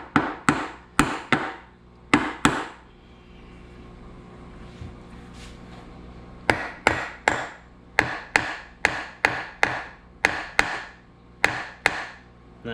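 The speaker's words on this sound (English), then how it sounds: "Try not to use a hammer, but sometimes" A hammer strikes metal parts during a bottom end teardown of a Yamaha Banshee engine, with clusters of sharp, ringing blows in rhythmic bursts, a quieter pause with faint background hum between them, then a longer run of regular strikes, close and clear.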